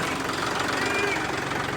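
A tractor engine idles nearby during wedding preparations, a continuous chugging rumble with a steady knock, loud and even across the short stretch, while people talk over it.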